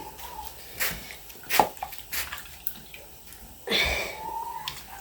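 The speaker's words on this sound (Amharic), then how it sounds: "እንደዚህ በውሃችን ጥብጥብ አድርገን" Food is rinsed by hand in a container of water, giving intermittent splashes and sloshing bursts separated by quieter pauses, close by with no talking.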